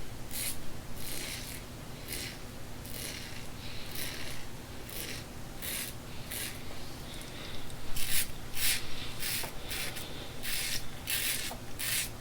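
A RazoRock 37 slant bar razor scrapes across lathered stubble in close, rhythmic rasping strokes, short bursts repeating steadily, with louder, crisper passes toward the end and no talking.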